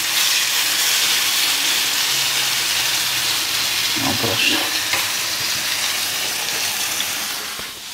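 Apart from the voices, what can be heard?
chicken meatballs frying in a pan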